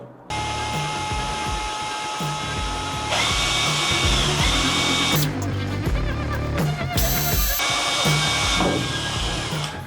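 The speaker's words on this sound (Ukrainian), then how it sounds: "тепер пробуємо, як воно буде сверлити" A DWT ASBP 20 cordless drill runs close and loud in sustained whining bursts, pitch shifting as it speeds up and slows between short pauses.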